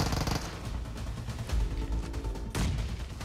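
MG3 machine gun fire in PUBG Mobile, heavy continuous rattling bursts with booming low-end impacts, dense and loud throughout with no voices.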